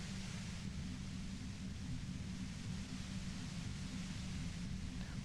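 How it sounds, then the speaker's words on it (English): Steady broadband hiss of a white noise effect in the video game Disco Elysium, loud and unbroken throughout with a heavy low rumble, no voices over it. "You hear through the white noise. It's especially bad suddenly."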